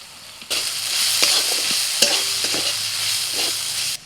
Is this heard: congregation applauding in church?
no